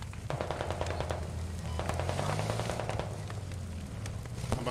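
Gunfire in the video game Squad comes as rapid automatic bursts, crackling on and off throughout over a rumbling battlefield background, moderately loud with no talking.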